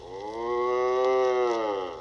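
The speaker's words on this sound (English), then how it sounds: "So Georgie ran away to a cow barn where there lived a harmless cow." A harmless cow moos in a barn, one long, loud, sustained low call that swells and fades over about two seconds, heard alone without talk.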